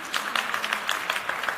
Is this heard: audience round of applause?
yes